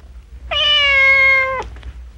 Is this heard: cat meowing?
yes